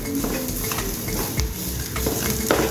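Ground cumin being stirred into a sizzling egg devil filling in a pan, a steady close frying sizzle with soft scraping stir strokes and faint utensil knocks, no talking.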